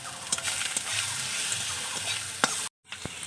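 Fried small fish sizzles in a pan as mustard and green chili paste goes in, giving a close hissing fry with a few sharp stirring clicks and a brief cut to silence near the end.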